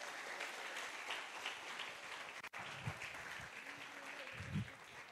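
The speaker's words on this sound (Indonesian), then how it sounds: "Tepuk tangan bagi Tuhan Yesus Kristus" Church congregation applauding in praise of Jesus Christ during a sermon, a faint, steady wash of clapping that runs throughout, with a brief dropout midway and low murmurs near the end.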